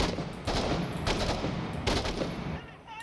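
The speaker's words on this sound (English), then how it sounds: "That is an appropriate amount of suppressive fire." Suppressive gunfire in the Six Days in Fallujah video game comes as several loud, rapid bursts of automatic fire that repeat across the moment.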